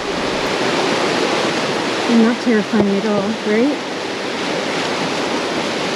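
A river rushes far below a high bridge of logs and vines, a constant broad roar like a waterfall, with a person briefly speaking over it midway.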